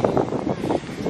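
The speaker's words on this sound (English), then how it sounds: "I hope you guys can hear me because it's very windy." Strong wind blowing outdoors at a tennis outing, a steady, close, rumbling gust buffeting the microphone throughout the brief stretch.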